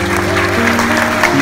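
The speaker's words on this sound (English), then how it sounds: "Give a hand, round of applause." Audience clapping at an eco-themed theater show in Subic Bay, a short, dense burst of applause with a held tone and faint voices underneath.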